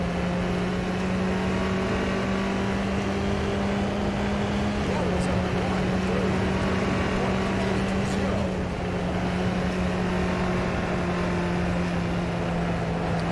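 Tatuus open-wheel race car engine in the sim game rFactor 2, a steady droning tone that dips and shifts with gear changes and lift-off, heard close and continuous under occasional talk.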